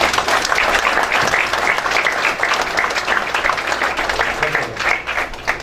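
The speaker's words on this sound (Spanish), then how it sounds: "les pido le demos un muy fuerte aplauso" Audience applause at a book presentation about Morelos, a steady, dense wash of clapping from a crowd lasting several seconds.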